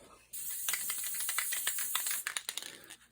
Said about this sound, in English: I'm going to give it a coat of spray glue.